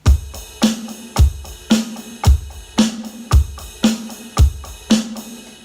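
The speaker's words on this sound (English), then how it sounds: "A ride cymbal opens up that sound a bit more, as you can hear." Drum beat played on a ride cymbal, with a kick drum landing on each regular pulse and the ride ringing between hits, a steady even rhythm heard up close.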